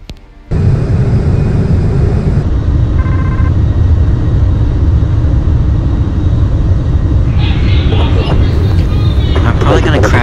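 An AV-8B Harrier II Plus STOVL jump jet in the Navy Simulator game gives a loud, steady engine roar with broad rushing noise throughout, and a few brief electronic tones rise over it near the end.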